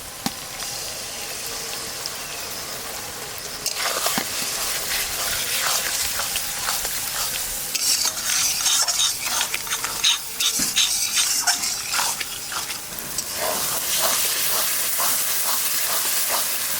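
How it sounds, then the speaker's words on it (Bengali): Spice paste for mutton curry is fried and stirred in a pan: a quiet sizzle at first, then louder bursts of spoon scraping and crackling in irregular clusters. "মশলা কষানো হয়ে গেছে, এখন মাংস দিয়ে দেবো।"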